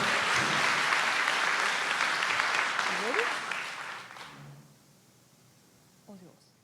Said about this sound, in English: Let's give a wave of applause to Zintle.